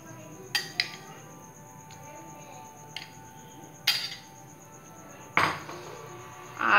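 Ragda is spooned into a small pot, giving scattered metallic clinks and taps of a spoon against the pot at irregular intervals, fairly close, with no talking.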